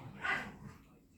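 A dog gives one short, faint bark in a quiet home, followed by low room noise.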